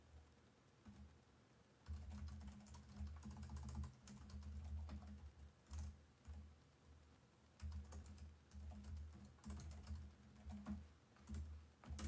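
Fingers type on a computer keyboard in quick irregular bursts, close and fairly quiet, with short pauses between runs of key clicks and no talking.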